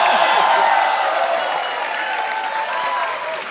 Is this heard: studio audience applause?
yes